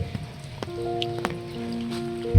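Light drizzle falls in a forest village courtyard, a soft, steady patter spread evenly through the clip, with faint tonal sounds above it and no talk.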